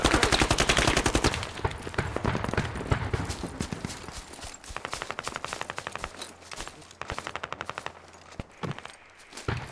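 Rapid machine-gun fire from the military shooter Squad, dense and loud at first, then breaking into shorter bursts and scattered single shots with brief gaps, all close by.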